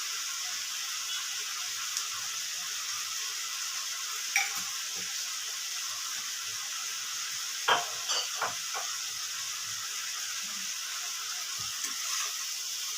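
Cauliflower leaf curry with cumin powder frying in a pan, a steady soft sizzle with a few clinks and stirring scrapes, no talking.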